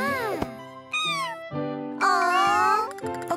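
A cat meows several times in a row, drawn-out, tonal and close, with short gaps between calls and a small jingle near the start.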